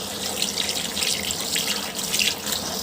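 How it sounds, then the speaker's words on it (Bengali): Running water splashes steadily from a tap as freshly picked bottle gourd leaves are rinsed underneath it, with irregular spattering; close and continuous, no voices. "সুন্দর করে একটু ধুয়ে নেই"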